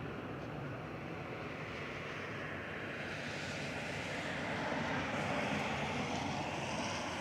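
An Airbus A320-200 at Manchester Airport rumbles faint and distant as a steady, wide engine roar that swells slightly toward the end, with wind noise beneath it.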